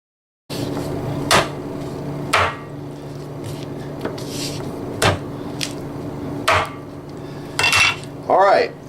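Chicken leg bones set into a metal roasting pan for bone broth, a series of sharp metallic clanks and knocks at irregular intervals over a low background hum, close by with no speech.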